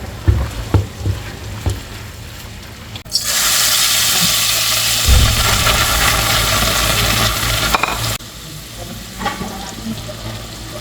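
Milkfish sisig hits a hot sizzling plate with a sudden loud hissing sizzle that holds steady for about five seconds, then cuts off, leaving quieter kitchen clatter with no talking.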